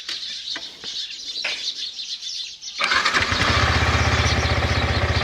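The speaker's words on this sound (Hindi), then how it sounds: "तो देखो स्टार्ट तो हो रही है बाइक अपनी।" A Yamaha R15 v4 motorcycle cranks and fires up after a stretch of outdoor ambience with birds chirping, then settles into a loud, steady close-up idle that runs to the end.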